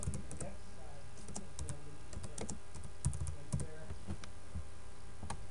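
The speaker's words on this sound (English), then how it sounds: "now I can type in anything." Rapid, uneven keystrokes on a computer keyboard clatter steadily and close up throughout, with a few sharper, louder key hits standing out from the run of typing.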